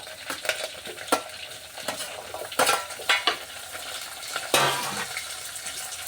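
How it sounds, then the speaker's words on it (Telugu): Vegetables for biryani, including green chillies, carrot, tomato and potato, stirred in a pan with a utensil, giving irregular scraping clinks over a soft sizzle at moderate distance, with no voices. "కలిపేసుకోండి మంచిగా అంటే మంచి గోలిచ్చుకోవాలి మంచిగా"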